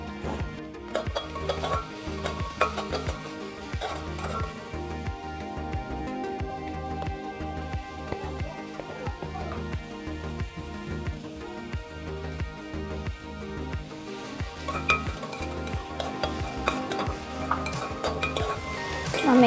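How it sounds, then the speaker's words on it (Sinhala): Gotukola leaves fry in oil in a pan on the stove, a steady close sizzle mixed with repeated stirring scrapes and occasional clinks of a utensil against the pan. "මේක තා පොඩ්ඩක් මේ පරාදු වෙන්න දෙනවා ලිපෙම තෙල් එකේම"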